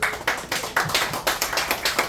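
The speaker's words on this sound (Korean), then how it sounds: "여러분 다시 한번 뜨거운 힘찬 박수 부탁드립니다" Clapping from a crowd at an inauguration ceremony, beating in a quick, even unison rhythm of about eight sharp claps, close and fairly loud with no voices.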